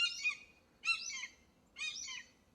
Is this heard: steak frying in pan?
no